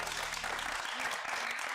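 A talk show studio audience claps for the host, a short steady patter of applause that thins toward the end with a few scattered claps and low knocks.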